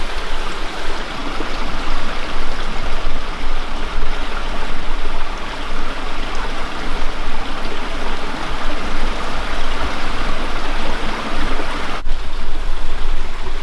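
Water at a spring rushes steadily at night, a loud, close, continuous flow with no voices.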